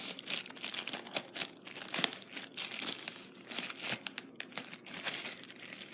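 Plastic shrink wrap crinkles and crackles as it is peeled off a Thomas Nelson King James Reference Bible, 2005 edition, dense close-up rustling with sharp bursts and brief pauses, no voices.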